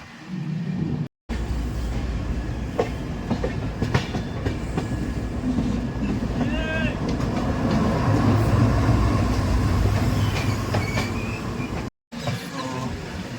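Train rolling into a station near Mathura, India, a steady loud rumble of railcars with rhythmic clickety-clack over the rails and occasional squeals, heard from on board.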